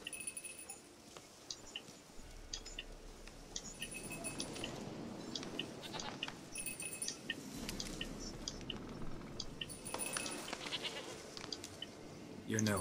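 Goats bleat intermittently in a video game, a few distinct cries over a quiet ambient bed with chewing-like noises, while a person talks over them.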